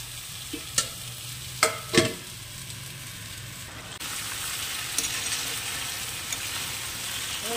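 Mutton fries in a pan with a steady sizzle, several sharp scraping clinks of a spoon stirring early on, then continuous close frying hiss.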